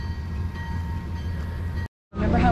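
A Texas State Railroad steam locomotive moving along the track on an excursion near Palestine, Texas: a steady rumbling, humming rail drone with faint tonal ringing, then a brief cut to silence before the rumble returns louder, with no talking.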